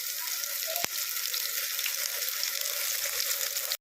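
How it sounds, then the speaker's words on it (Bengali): Soaked soybeans fry in hot oil in a kadai, giving a steady, dense sizzle that holds close and even throughout, with one sharp click from a utensil near the start and a faint low rumble toward the end. "কড়াইয়ের মধ্যে যে গরম তেল ছিল ওর মধ্যেই আমি এই যে ভেজানো সয়াবিনগুলোকে"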